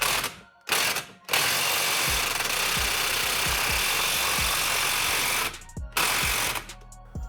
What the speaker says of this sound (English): I got it hooked up to the case splitter, which basically just pushes on the crank